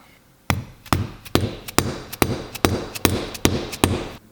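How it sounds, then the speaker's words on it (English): A hammer strikes a leather sheath's rounded top snap set on a small rounded anvil, about ten sharp, evenly spaced taps close up with no talk. "this top snap has a little bit of a rounded surface, so I'm gonna use this rounded little anvil"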